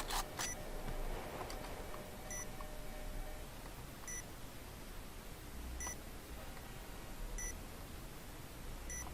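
A planted bomb in the video game Point Blank gives short, faint electronic beeps, sparse and spaced a second or two apart, over quiet background noise.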